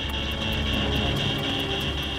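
A twin-turboprop airliner's engines drone loudly at go-around power during an aborted landing, a steady roar with a high whine and faint rhythmic pulsing, heard alone for a couple of seconds.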